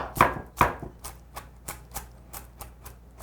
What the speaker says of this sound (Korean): 양념에 들어갈 건새우를 다져 보도록 할게요